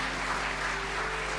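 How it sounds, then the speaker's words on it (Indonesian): A church congregation claps in steady, dense applause, a continuous wash of hand claps with no individual beats standing out, moderately distant and without talk. "Tepuk tangan bagi Allah kita."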